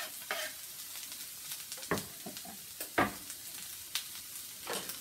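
Vegetables cooking in a pan for a veggie meatloaf are stirred, with irregular scraping spatula strokes over a quiet underlying sizzle, a few sharper clatters standing out; no talking.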